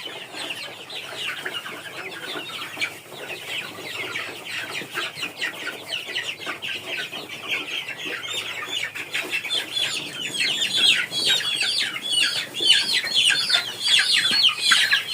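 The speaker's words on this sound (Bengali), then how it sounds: "এই মুরগিগুলো ধরে আমরা ওদের ছোট খোপে দিয়ে আসবো।" A flock of young chickens on a poultry farm clucks and chirps continuously, a dense, busy chorus that grows slightly louder and more agitated toward the end, with no talking.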